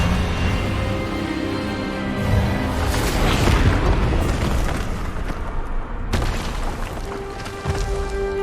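A spell blast cast with a wand in Hogwarts Legacy, heard as a loud sustained booming burst that swells mid-clip and rumbles on, with a sharp crack near the end.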